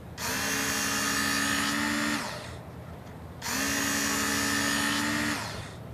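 A Work Sharp powered sharpener grinds a fillet knife bevel in two sustained whining passes, each about two seconds long, separated by a brief quieter pause, loud and close with a steady high-pitched motor tone.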